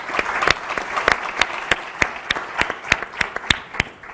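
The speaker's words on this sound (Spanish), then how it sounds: "Se merece un aplauso" Audience members at a round-table panel on healthy building products clap steadily, a moderate patter of hands with distinct sharp claps standing out near the microphone, little talk underneath.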